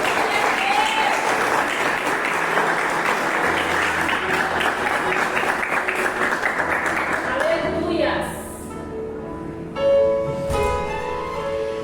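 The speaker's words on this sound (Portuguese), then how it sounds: "Aplauda o Senhor nessa manhã" A church congregation at a morning service claps together in a sustained burst of applause for several seconds, then it fades and music and voices take over.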